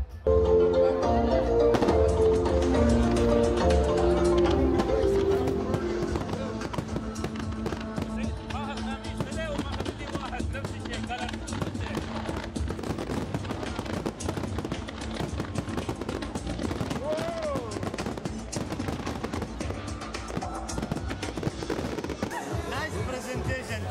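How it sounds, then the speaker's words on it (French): Fireworks display at the opening of a hotel in Dubai, with crackling bursts and pops over a steady wash of music and crowd noise that continues throughout. "C'est le moment que choisit Michael pour démarrer le feu d'artifice."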